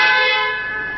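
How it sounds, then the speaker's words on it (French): A single sustained car horn blast, loud and close, with a bright tonal blare fading slightly over about a second. "Pour avoir le klaxon, vous appuyez simplement sur la commande."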